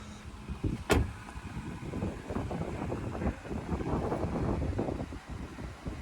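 A Jeep WK2 Trailhawk's air suspension raises to off-road 1 height with a low, steady mechanical hum and whir that holds for several seconds, preceded by one sharp click.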